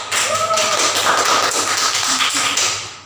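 Applause from a classroom audience for a student group that has just presented, a steady dense patter of many hands lasting about three seconds, fairly loud and close.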